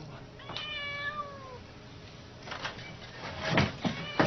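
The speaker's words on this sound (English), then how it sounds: "A well-practiced cat quickly recalls the actions that help it escape to its reward of food." A cat in a puzzle box learning experiment gives one drawn-out, clear meow near the start, followed by knocks and rattles of the box being worked open.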